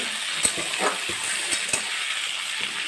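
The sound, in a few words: vegetables for shukto stir-frying in oil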